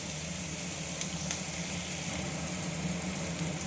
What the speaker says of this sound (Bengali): পেঁয়াজটা ভালো করে একটু নরম হয়ে ভেজে নিই।